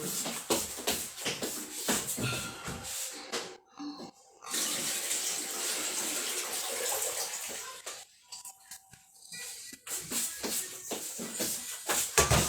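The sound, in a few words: water running from a tap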